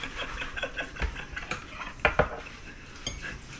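Dishes and cutlery clink and clatter at a sink, with sharp scattered knocks over a steady background of running activity, no talking.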